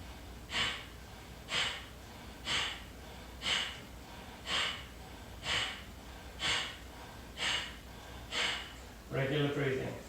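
Sharp, forceful yoga breath exhales, a steady series of about nine evenly spaced bursts roughly one per second, close and clear, ending in a brief voiced sound.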